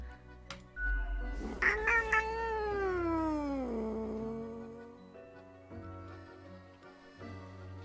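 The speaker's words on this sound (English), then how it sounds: "the cat mutters an annoyed meow through her snores" A cat gives one long, drawn-out meow that slides downward in pitch, loud and close, followed by quieter background sounds.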